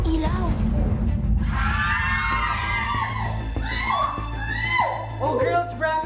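A woman's sudden scream cuts through the dark in a beauty parlor during a power blackout, with loud, piercing wails and further cries over a low rumbling background.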